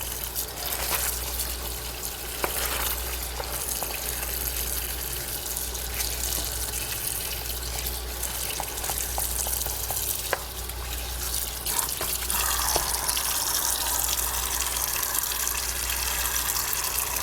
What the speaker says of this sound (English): Just gonna rinse off our cabbage.